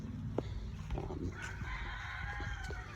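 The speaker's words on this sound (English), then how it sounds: "Here you can see the meat chickens in their tractors." Meat chickens in homemade tractors on a homestead cluck and call softly at moderate distance, with a rooster-like crow rising midway over faint farmyard background.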